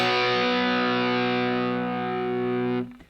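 A single distorted electric guitar chord of three notes, two of them barred with the pinky, struck once and left ringing steadily for nearly three seconds before being muted.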